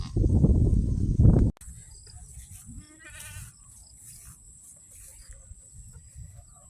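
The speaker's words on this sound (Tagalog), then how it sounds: "Ang aming munting mga kambing." Newborn goat kids bleat softly on a farm after a burst of loud close noise cuts off, their brief cries faint against a background hum of insects.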